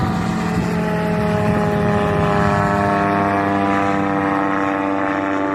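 A reconnaissance aircraft flies over the sea on a July morning, its engine producing a loud, steady droning hum with sustained tonal harmonics throughout and no talking.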